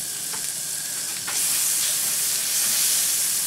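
Butter melts in a hot frying pan, giving a loud, continuous close sizzle and hiss that swells slightly as it heats, with a couple of faint clinks early on.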